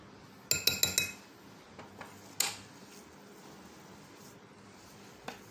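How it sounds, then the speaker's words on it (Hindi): A spoon clinks against a bowl several times in quick succession while cocoa powder is stirred into a chocolate biscuit mixture, then a few lighter, scattered taps follow amid quiet room tone. "ये देखिए ऐसे कोको पाउडर मिक्स कर दिया।"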